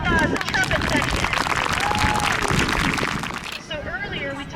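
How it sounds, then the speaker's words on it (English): An audience gives a band's trumpet section a warm round of applause at a band awards event, with dense clapping and crowd murmur filling the room. The applause tapers off toward the end. "How about another round of applause, the trumpet section?"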